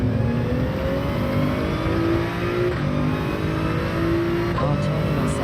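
A Toyota Supra race car in Gran Turismo 7 drones steadily at high revs, its engine note climbing through gear changes with brief dips, loud and close throughout with no talk.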